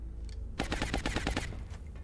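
Suppressive fire aimed at a heavy floater in XCOM Long War: a single tight automatic burst of roughly seven rapid, evenly spaced shots, close and punchy, then quiet ambience.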